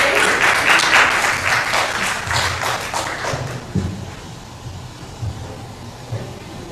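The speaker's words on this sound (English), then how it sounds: "Let's give a round of applause for Sybil" An audience applauds after a speaker at an evening youth innovation forum, the broad clapping loud at first, then thinning into scattered claps with low thumps by the end.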